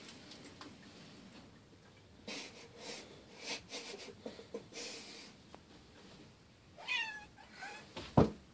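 A cat gives a couple of short meows near the end, close and clear after quieter rustling and faint ticking sounds in a calm indoor space.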